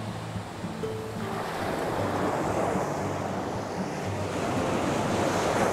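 Ocean waves wash steadily onto a Zambales beach, a broad continuous surf hiss with wind buffeting the microphone and a faint low hum at the start.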